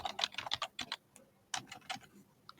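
Keys clatter on a computer keyboard in two quick bursts of clicky, close typing, separated by a short pause.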